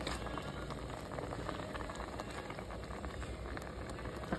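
Sinigang broth with okra and kangkong boiling in a pot gives a steady, close bubbling hiss, with dense simmering texture and small pops throughout and no voices.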